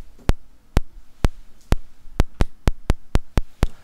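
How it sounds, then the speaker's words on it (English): Sharp electronic clicks from a Moog synthesizer LFO tick at a steady, slightly quickening pulse, about a dozen in a row, alone over a faint low hum. "You can hear those clicks, that's the LFO."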